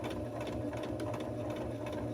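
Sewing machine running steadily while stitching a Porch Goose costume, a continuous close mechanical whir with rapid needle rhythm throughout, no voices.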